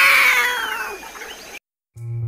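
A cat lets out one loud, drawn-out meow that bends downward and fades, followed by a brief silence and then a short low tonal sound.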